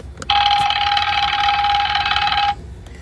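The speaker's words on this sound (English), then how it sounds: "That's supposed to be a phone." A telephone ring effect from a CareTech ZeitGeist clock sounds as a single loud, steady electronic tone lasting about two seconds, then stops abruptly.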